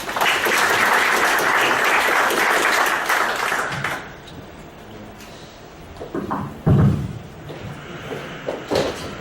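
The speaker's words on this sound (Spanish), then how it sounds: "Lo recibimos con un fuerte voto de aplauso" Audience applause greets Dr. Luis Rioja Espinoza at a lecture: a loud round of many hands clapping that fades out after about four seconds, followed by quieter room noise with scattered knocks and thumps.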